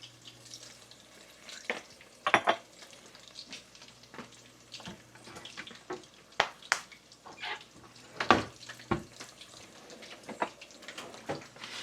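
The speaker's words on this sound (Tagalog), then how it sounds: "Lutuin lang natin yung mushroom saglit." Mushrooms sauté in a pan for mushroom gravy, giving a soft close sizzle broken by sharp clinks and scrapes of stirring, with no talking.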